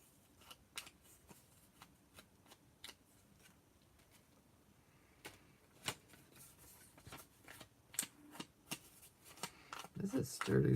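Scissors snip sturdy paper in a series of sharp, separate cuts at uneven intervals, close and fairly faint, with a voice speaking softly near the end.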